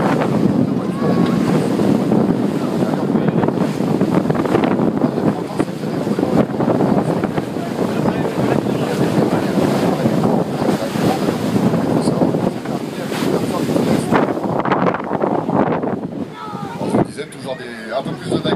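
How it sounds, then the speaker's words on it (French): Sea waves and strong wind buffet a ferry leaving the port of Dieppe, a steady loud roar of surf and wind noise on the microphone throughout, easing slightly near the end. "toujours un peu plus de vagues à la sortie du port, hein, mais là il y a des vagues tout le long, un peu trop fort"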